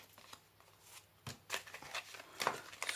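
Tarot cards being shuffled by hand, close and crisp, with bursts of riffling and flicking that get busier toward the end.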